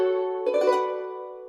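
Ethno Rhodes stringed instrument plugin playing a sustained chord phrase, with a brief rapid strummed flourish in the middle over a steady harmonic tone, clean and alone with no talking.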